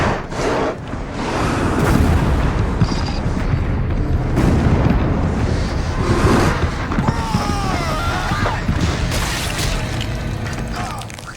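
Massive explosion rocking a throne room in the film Minotaur, a loud sustained rumbling boom with crackling debris and mechanical clatter that rolls on for several seconds before slowly easing off.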